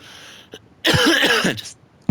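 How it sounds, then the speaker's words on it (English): A person clears their throat once, a short rough burst after a faint click, with no talking, over an NBA 2K23 game simulation. "Sorry, guys, just clearing my throat."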